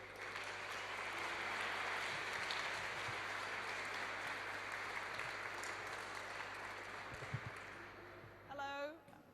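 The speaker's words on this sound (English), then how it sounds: "Let's give a warm round of applause for Rachel." Sustained applause from a large conference audience fills the room, steady and dense, before a voice begins speaking near the end.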